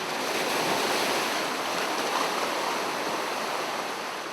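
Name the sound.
strong sea waves crashing on the shore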